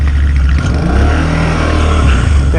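Car engine revving loudly and continuously just after being started, a close rough mid-pitched roar that holds steady throughout.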